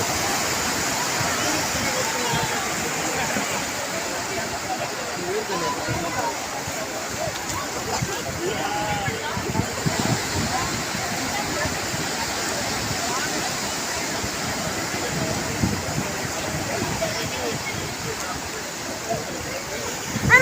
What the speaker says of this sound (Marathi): एवढ्या मोठा मोठा लाटा येते.